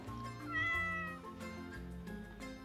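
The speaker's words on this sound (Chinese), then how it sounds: "哪来的猫叫？" A cat meows close by: one drawn-out, rising and falling meow stands out over a faint background hum, with no speech.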